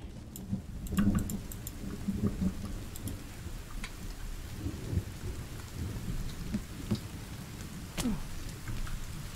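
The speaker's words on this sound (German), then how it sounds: "Es regnet." Rain patters steadily in the survival video game The Forest, with rolling thunder rumbling at intervals, alone without any voices.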